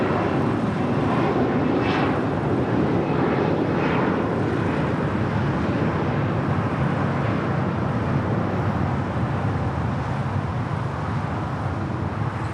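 A SkyWest jet takes off from runway 25 right at LAX, producing a steady, loud engine roar with broadband rumble that holds constant throughout.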